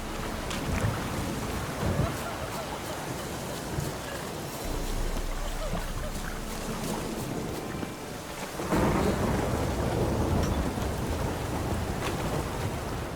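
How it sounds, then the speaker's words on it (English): A thunderstorm in The Witcher 3 brings steady rain and low rumbles of thunder, with a heavier roll arriving partway through, all under an even wash of rainfall. "A storm, damn it."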